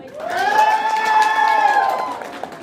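A crowd of party guests bursts into loud cheering and clapping during a thanksgiving party applause contest, with raised voices swelling and holding for about two seconds before easing off.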